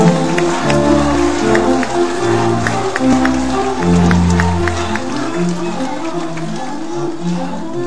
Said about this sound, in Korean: 여러분 더 큰 박수를 부탁드리겠습니다.